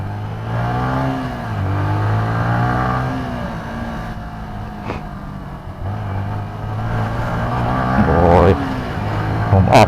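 A Yamaha M-Slaz motorcycle ridden on the road to work, its engine holding a steady hum that rises and falls with throttle changes, with wind noise and brief speech over it.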